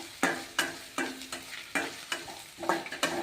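Cumin seeds and red chillies fry in a pan for masala bath, stirred in a steady rhythm of about eight scraping, sizzling strokes, close and fairly loud.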